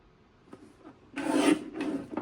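A paper trimmer slices through a 4 1/4 inch piece of cardstock during a scrapbook page kit workshop, giving a short, close rasping swish after a faint tap, followed by a second, softer scrape.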